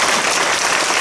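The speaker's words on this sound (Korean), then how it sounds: "그냥 주님께 영광의 박수 드리겠습니다." Dense, steady applause from a church congregation, continuous and loud throughout.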